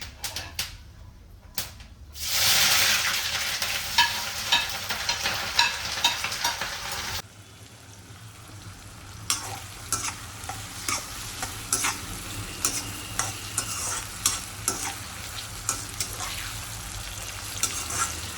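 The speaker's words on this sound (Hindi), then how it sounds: "अभी ना हम इस प्याज को ना थोड़ा हल्का सा ब्राउन करेंगे" Onions frying in a pan with steady stirring, a loud sizzle swelling in, then repeated rhythmic scraping and clacking of a utensil against the pan over continuous frying, close up.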